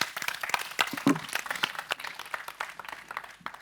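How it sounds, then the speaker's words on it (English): Applause from an audience after a pitch at an XR competition final, scattered and fairly faint, with individual claps distinct and a few voices in the background. "Big applause, please."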